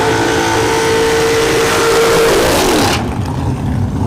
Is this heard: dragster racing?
yes